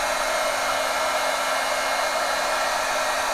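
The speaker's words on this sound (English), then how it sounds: "Now this gets to 650 degrees, so typically I try not to aim the heat gun at my own hands." A heat gun rated to 650 degrees blows hot air in a steady, loud, unbroken hiss with a faint motor whine underneath, constant from start to finish and close to the listener.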